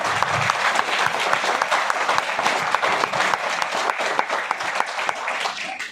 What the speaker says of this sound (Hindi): परमात्मा के लिए जोरदार ताली होना चाहिए।